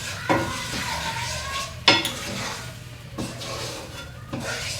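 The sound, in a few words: stirring shrimp and grits sauce in a non-stick pan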